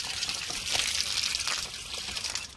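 Tap water pours out in a loose, splashy stream, running on for a few seconds with small surges, close by and without any talk.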